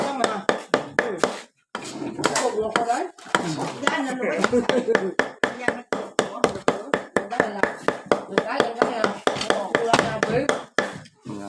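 Knife blade striking a board in rapid, irregular chops while cutting beef into small pieces for Isan-style larb, loud and close, with someone talking over the steady chopping.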